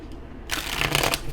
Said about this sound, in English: 2 more shufflers for my Saggies.